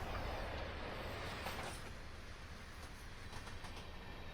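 A train in a rail simulator game rolls along, a continuous low rumble of wheels on track with faint rhythmic clicking and some squeal, steady and fairly quiet without speech.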